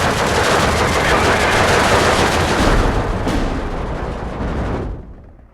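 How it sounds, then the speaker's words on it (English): Sustained artillery and machine-gun fire in the WWII strategy game Steel Division 2, a dense, continuous roar of shots and impacts that stays loud before dropping away abruptly near the end. "Got artillery fire coming in to help, but it's not going to be enough."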